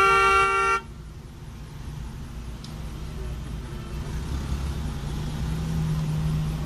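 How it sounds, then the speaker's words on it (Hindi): A short car horn honk sounds up close at the start in night city traffic, then stops and gives way to the steady low rumble of an idling car engine and passing traffic. "किसने बजाया हॉर्न?"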